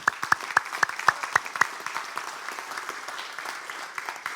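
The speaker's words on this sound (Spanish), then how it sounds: "¿por qué no le damos un aplauso al Señor, hermano?" Applause from a church congregation, starting with a few sharp, distinct claps in a rhythmic pattern that give way to a softer, scattered wash of clapping in a reverberant room.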